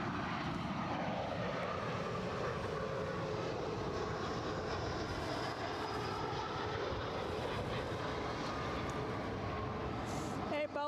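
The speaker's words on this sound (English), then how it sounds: "Just above us, the 787 Dreamliner's gone over." A Boeing 787 Dreamliner passes overhead near an airport, a broad, continuous engine rumble and whoosh that holds steady throughout, with faint speech present beneath it.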